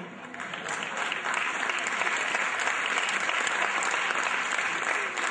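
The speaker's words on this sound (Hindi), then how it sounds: "कम से कम आपकी तालियों में तो जोर हो।" A large audience applauds loudly and continuously, a thick wash of clapping that holds steady and swells slightly throughout.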